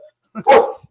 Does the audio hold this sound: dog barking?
yes